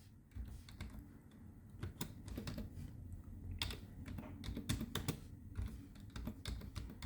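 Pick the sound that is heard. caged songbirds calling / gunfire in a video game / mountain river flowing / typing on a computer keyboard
typing on a computer keyboard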